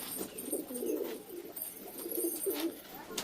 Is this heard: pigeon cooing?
yes